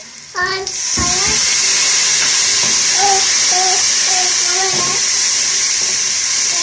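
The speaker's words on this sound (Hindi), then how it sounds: "थोड़ा सा पानी डालूंगी इसके अंदर।" Water hits a hot pan of frying spices with turmeric, red chilli powder and salt, bursting into a loud, steady sizzle and hiss that holds for several seconds, with faint clinks and stirring on top.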